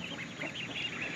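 Ducks quack and honk in a backyard flock, a busy overlapping chorus of nasal calls at moderate distance with no talk.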